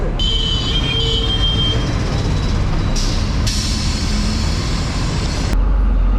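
A Chennai MTC route 45B city bus rolls through traffic between Guindy and Anna Square, with a loud, constant engine roar and rattle and whining tones rising and cutting out, heard from on board.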